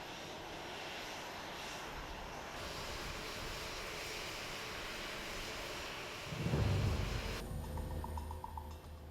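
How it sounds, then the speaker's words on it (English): Airplane arriving at Beijing Daxing International Airport, a steady roaring engine drone heard from a distance that swells louder and deeper toward the end as the aircraft passes close. "As the plane arrives"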